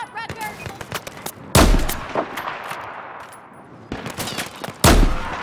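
Battlefield 4 gunfire: two loud, sharp bursts of shots stand out against a dense backdrop of distant battle noise and scattered crackling reports.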